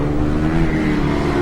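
A Formula Student race car sweeps past on track during endurance finals, its engine loud and close as a brief, steady whine with no one talking.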